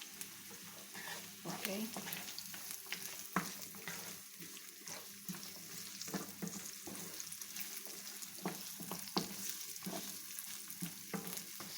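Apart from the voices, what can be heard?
carrots sautéing in a pan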